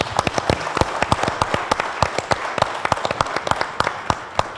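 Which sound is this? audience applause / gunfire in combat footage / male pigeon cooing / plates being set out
audience applause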